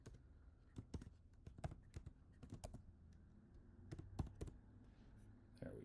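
Typing on a computer keyboard, uneven bursts of key clicks with short pauses, close and fairly quiet, with no talking.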